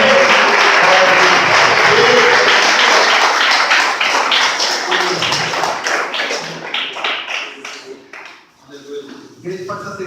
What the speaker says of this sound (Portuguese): aplaudindo a palavra do Senhor.